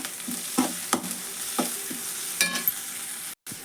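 Green chili paste fries in oil for North Karnataka-style beans palya, with a constant hiss of sizzling punctuated by a handful of scraping spatula strokes and a brief silent gap near the end.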